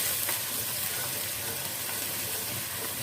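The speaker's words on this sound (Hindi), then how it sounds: "अदरक को और प्याज को भी हम 1 मिनट के लिए फ्राई कर लेते हैं।" Ginger and onion sizzling in a hot pan for aloo matar, a steady close hiss of frying with faint stirring scrapes, no talking.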